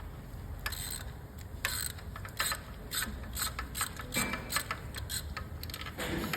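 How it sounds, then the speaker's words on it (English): A ratchet with a 5/8 spark plug socket works loose spark plugs on a 2016 Hyundai Tucson 1.6 turbo, making bursts of quick clicking strokes in an irregular rhythm over quiet background noise. "I'm using a 5/8 spark plug socket"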